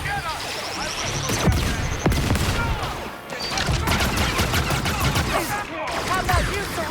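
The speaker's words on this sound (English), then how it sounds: "Back off! Firing the grenades!" Rapid gunfire bursts and explosive blasts from Star Wars Outlaws gameplay, a dense continuous firefight with sharp cracks and loud thuds, while voices shout over the shooting.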